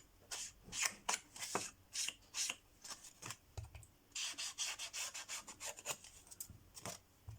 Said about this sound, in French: Donc on va remettre de l'encre sur les bords.